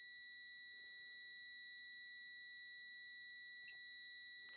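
A Habotest HT123 (Tesmen TM-510) digital multimeter's continuity buzzer sounds a faint, steady high-pitched electronic tone, unbroken for several seconds in a quiet room.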